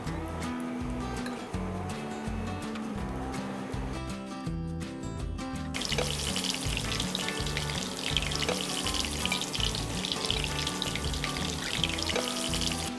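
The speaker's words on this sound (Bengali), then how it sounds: "এটা একটু ভালো করে ভাজতে হ্যাঁ একটু পেঁয়াজের কাঁচা গন্ধটা হালকা চলে যাবে" Onion sizzles and spits steadily in hot oil in a pan, loud and close throughout, with a brief clattering stir partway through and a brighter, fiercer sizzle afterward.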